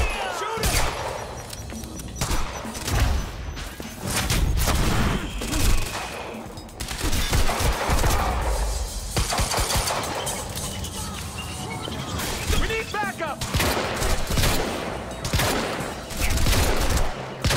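Repeated bursts of gunfire and rapid shots crackle in a Quantum Break firefight, loud and close, with crashes and voices mixed among the volleys.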